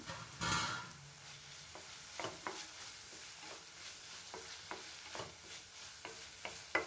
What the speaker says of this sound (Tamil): இப்போ வெங்காயம் தக்காளி பச்சை மிளகாய் எல்லாம் நல்லா வதங்கட்டும்